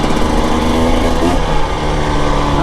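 Engine of a 2025 Husqvarna TE 300 Heritage edition motorcycle on a test ride, a steady, loud, buzzing high-revving drone that stays close and continuous with no talk.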